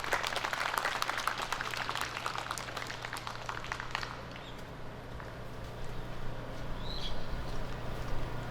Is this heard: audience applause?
yes